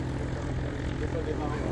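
A post-war French military T6 propeller training plane flies low overhead at about 150 metres, giving a loud, steady engine drone and rumble with no breaks.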